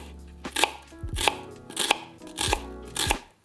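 Kitchen knife slicing through an onion on a cutting board, five crisp crunching chops at an even, unhurried pace, close and clear with no talk.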